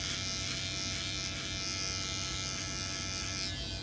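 An Aprilla ATR 7017 or ATR 7025 electric shaver buzzes steadily at close range while cutting, a constant high whir with no speech.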